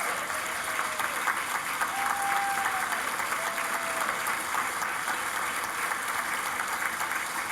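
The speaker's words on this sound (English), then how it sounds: "give them a round of applause" Audience applauding steadily at an engineering award ceremony, a dense, sustained wash of clapping hands from a large crowd throughout.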